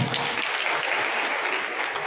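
Loud, close applause fills a state-level meeting hall, a crowd clapping vigorously and continuously from start to finish.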